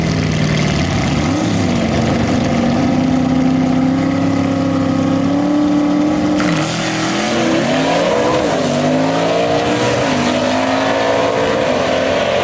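Gasser race cars drag racing at Mooresville Dragway, engines roaring loudly and continuously as they accelerate down the strip, with rising pitch sweeps through gear changes and no talk.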